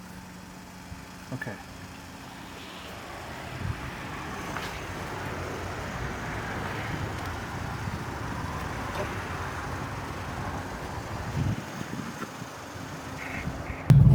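Chevrolet Camaro ZL1 engine starting on the key and settling into a steady idle, a low, even rumble that builds over the first few seconds and then holds close by, with a brief spoken word near the start.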